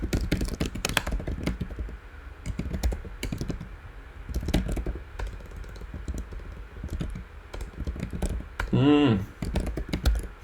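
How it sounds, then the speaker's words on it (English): Rapid clattering keystrokes come from a worn-out computer keyboard, bursts of close, loud clicks in uneven runs with brief pauses, and a short tonal sound near the end. "It's my keyboard. I gotta get a new keyboard."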